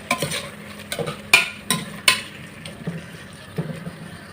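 Salted tomatoes stirred with a spoon in a pressure cooker for mutton biryani, a series of soft, uneven scraping clinks and light sizzling at close range.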